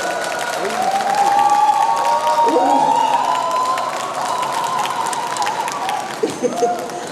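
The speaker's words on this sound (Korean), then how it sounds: "선웅 스님을 큰 박수로 모시겠습니다" A crowd at a Buddhist dharma lecture applauds to welcome the monk Seonwoong with a loud, steady wash of clapping and some cheering. A voice speaks over it throughout.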